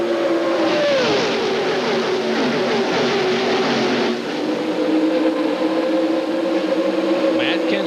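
NASCAR Busch Series stock car engine at racing speed near 6,800 RPM, heard onboard at the 1999 Touchstone Energy 300 at around 190 mph, a loud steady engine drone with pitch shifts into the turn and a broadcast commentator talking over it.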